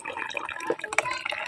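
Strong running water pours steadily into buckets from a spring-fed flow, a continuous splashing, gurgling rush with brief drips standing out, close by and fairly soft.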